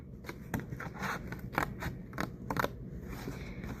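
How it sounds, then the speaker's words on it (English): Scissors cutting a shape out of a paper plate for a craft, giving a quiet run of crisp snips and scraping paper rustle in an uneven rhythm, close and alone. "And now we're just going to cut out our shape."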